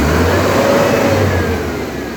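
Car engine being checked for misfires revs up as throttle is applied, a close rising mid-pitched roar over a low idle drone that eases off slightly near the end, with no talking.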